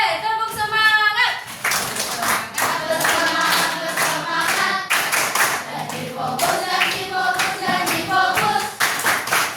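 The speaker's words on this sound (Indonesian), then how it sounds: "Semangat 7B, tepuk semangat." A class of seventh-grade students does a rhythmic spirit clap in a school classroom, loud, quick patterned bursts of hand claps with voices chanting along throughout.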